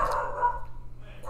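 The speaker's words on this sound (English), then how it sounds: "We have dogs in the other room, as you can't tell." Dogs bark in another room of a house, a muffled, steady stretch of barking heard at a distance through walls, with no talk over it.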